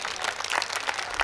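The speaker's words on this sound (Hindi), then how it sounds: "एक बार पीछे तक दोनों हाथ उठा करके तालियां बजाइए" Audience clapping at a Hindi comic poetry gathering in Nohar, a dense, steady burst of hand claps with no voices over it.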